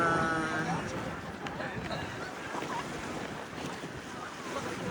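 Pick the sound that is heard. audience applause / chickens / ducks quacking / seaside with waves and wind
seaside with waves and wind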